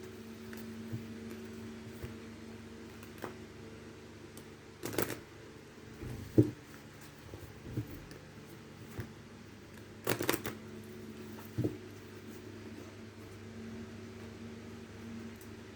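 Astrology tarot cards being shuffled by hand: faint rustling with a couple of brief, sharper riffling bursts and scattered light taps over a quiet background hum, with no voices.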